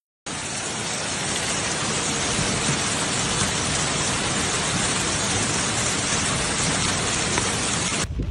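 Heavy rain, with hail also reported, pounding down during a flood in West Bowling, Bradford, a dense, unbroken hiss that holds steady at full strength throughout, with no voices.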